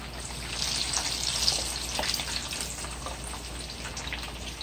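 Jamaican fish fries in hot oil in a pot, giving a steady, close crackling sizzle with fizzing bursts and no talking over it.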